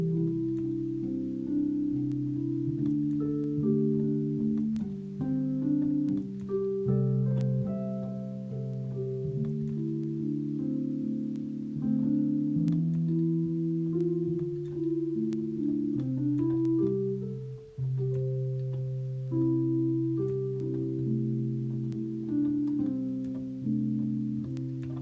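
Impressionist-style chords built from the pentatonic scale, played on a keyboard instrument: sustained, overlapping harmonies shifting in a gentle, flowing progression, moderately soft and alone without voices.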